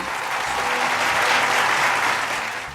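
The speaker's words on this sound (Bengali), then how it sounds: "আল আমিনের জন্য একটি জোরে করতালি" Audience applause for the winner of a Dhaka marathon at an awards ceremony, a dense, steady wash of clapping that holds strong throughout and tapers slightly at the end.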